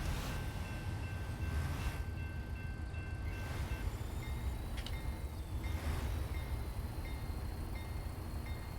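A video game train engine keeps running while the locomotive stands still, a steady low rumble with a faint tonal whine and occasional soft hissing bursts, continuous throughout.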